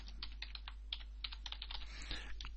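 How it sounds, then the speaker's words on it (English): Keys on a computer keyboard are tapped in a quick, irregular burst of light clicks, close and quiet, while a search term is typed. "I type that in."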